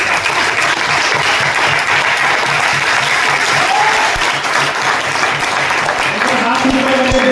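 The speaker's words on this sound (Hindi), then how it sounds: "मिस्टर नरेश कुमार को जोरदार तालियां बजाएं।" An audience at a seminar in Meerut claps loudly and continuously for a businessman, a thick, sustained wall of applause from a large crowd filling the whole span with no break.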